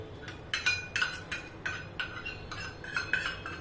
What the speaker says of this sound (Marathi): एकदा पुन्हा मिक्स करायचं, असं हलवून घ्यायचं आणि मग या दुधामध्ये हे टाकत चालायचं आहे।